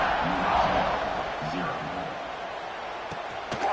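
Crowd noise swells in an American football video game during a kickoff after an extra point, a broad steady roar of cheering with a commentator talking over it throughout.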